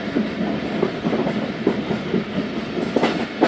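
The Khyber Mail passenger train rolls along the rails with a steady rumble and repeated clickety-clack wheel beats, heard close from on board with no voices.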